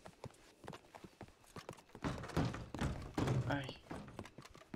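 Horse hooves clip-clopping in the video game Project 1920, a run of hollow knocking steps under ongoing talk, growing louder and denser midway.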